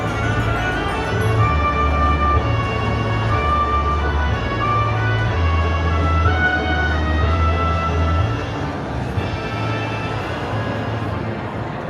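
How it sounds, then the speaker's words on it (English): Fantasyland courtyard music at Disneyland layers an accompaniment over the King Arthur's Carousel band organ, a steady melodic loop with a sustained low bass line, moderately loud and continuous with no talking. "we created a beautiful sort of overlay accompaniment to the carousel, to the band organ music"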